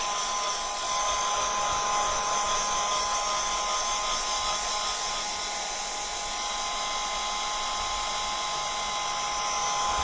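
A hair dryer blows steadily close by to dry paint on an MDF box, giving a continuous high-pitched whine and rushing air at a constant loud level with no talking.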